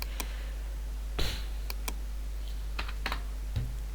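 A color code is typed on a computer keyboard: scattered single key clicks and a few quick taps, crisp and close, over a low steady hum, with no voices.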